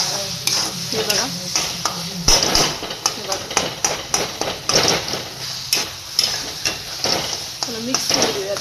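Tomato chutney with coriander leaves being stirred in a pan, rhythmic scraping and clacks of a spoon over a soft sizzle, close by, with a voice talking throughout.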